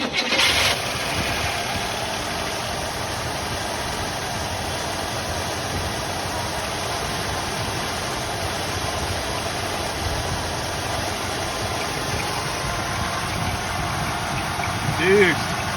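1969 Buick Skylark barn find, off the road for 36 years, idling just after an oil prime: a fairly quiet, even engine drone with a faint tick, steady throughout, with a brief noise near the end.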